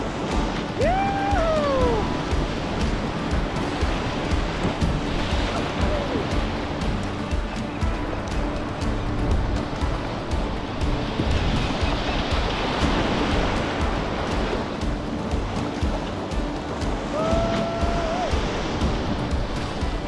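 Loud, continuous roar of rushing whitewater rapids on the Anderson River, with a couple of brief shouts or whoops rising above the churning water.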